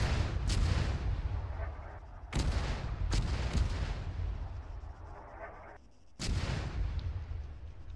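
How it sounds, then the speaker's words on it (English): Heavy mortar and artillery fire in the military shooter Arma 3, a run of booming blasts with sharp bursts near 0.5, 2.4, 3.1 and 6.2 seconds over a constant low rumble of distant fire. "Be careful with the mortars, man."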